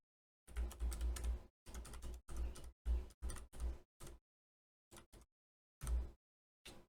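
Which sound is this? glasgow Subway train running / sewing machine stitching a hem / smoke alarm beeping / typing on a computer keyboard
typing on a computer keyboard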